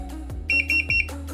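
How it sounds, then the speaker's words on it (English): Three short, high electronic beeps from a Boosted Mini X electric skateboard switching to expert mode sound in quick even succession over a low background hum. "you heard 3 beeps. This means it's in expert mode."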